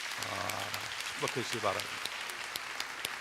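A church congregation applauds, a steady wash of close clapping from many hands throughout while someone speaks over it.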